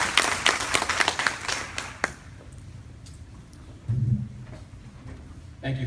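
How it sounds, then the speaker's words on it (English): An audience claps for a poet at a reading, a brief burst of scattered hand claps that fades after a couple of seconds into quiet room noise with a little low murmuring. "Y'all give him a round of applause."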